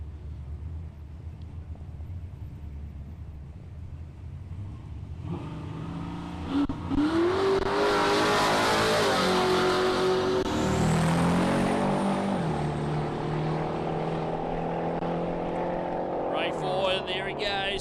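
A Chevrolet Camaro launches at a drag strip at Palmyra Raceway. The engine revs and rises into a loud, sustained full-throttle pull, while a commentator talks over the noise.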